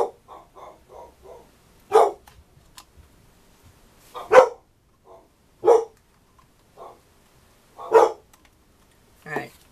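Dogs bark at home in sharp, separate bursts spread over several seconds, some quieter yips between louder close barks.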